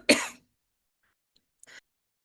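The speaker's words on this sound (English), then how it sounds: "Had to stop a second to have a cough and a glass of water." One short, close cough, then quiet, followed by a brief faint throat sound.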